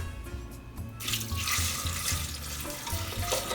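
White vinegar poured over pickled quail eggs in a container, a steady splashing pour that starts after a second and runs continuously, close and fairly quiet with a low hum beneath.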